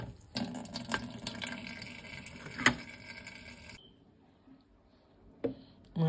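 Melon juice draining through a strainer, a thin running trickle of liquid for the first few seconds that then stops, leaving near silence with a couple of brief clinks or splashes.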